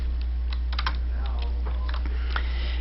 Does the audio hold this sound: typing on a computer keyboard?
yes